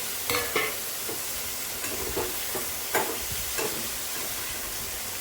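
Mint, capsicum, carrot and cabbage sizzle in hot oil in a pan, with a steady frying hiss and intermittent scraping stir strokes from a spoon, close and fairly loud.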